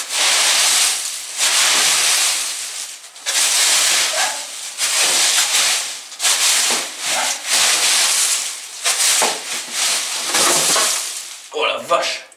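A broom sweeps over leaves and debris at a snowy refuge, harsh scratchy swishes repeating in strokes about a second long, loud and close.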